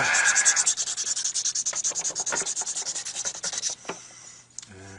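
Close, steady back-and-forth rubbing of fine-grit sandpaper against a pool cue tip, running in quick repeated strokes for several seconds before easing off near the end.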